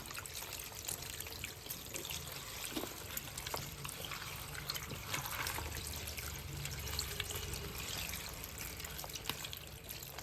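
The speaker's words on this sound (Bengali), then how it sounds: "কাটার আগে এগুলোকে প্রথমে একটু ধুয়ে নেব।" Muddy vegetable stalks, Malabar spinach stems, are rinsed under running water. The tap flows and trickles steadily with faint splashes, close but quiet, and no one speaks.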